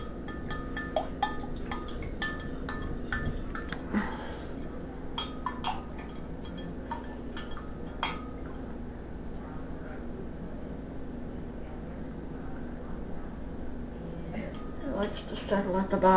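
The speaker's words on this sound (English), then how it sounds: "I'm having a hard time getting this to dissolve, so it is going to take some more stirring." A spoon clinks and taps against a glass while sea salt is stirred into water, with light irregular ticks under a person talking.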